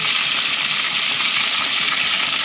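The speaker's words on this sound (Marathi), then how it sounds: "लसूण टाकल्यानंतर आपण कढीपत्ता टाकला आणि ही कस्तुरी ना मेथी तेल उडतात." Garlic, curry leaves and mustard seeds fry in hot oil with a dense, steady crackling sizzle, close and loud, and no voices.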